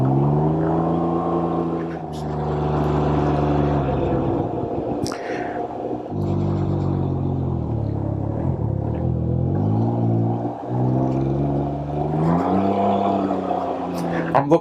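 A 2022 Can-Am Ryker Sport three-wheeler hums along at close range, its engine pitch dropping and rising through downshifts with brief clutch pauses, while a rider talks over the steady drone.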